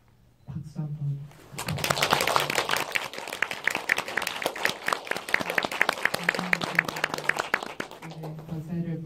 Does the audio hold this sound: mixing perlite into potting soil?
no